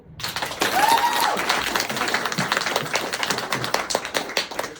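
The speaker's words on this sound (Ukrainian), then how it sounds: "Отже, ще раз, аплодисменти." An audience at a live comedy round in Kyiv breaks into steady, dense applause, fairly close and sustained throughout, with a brief voice or whistle near the start.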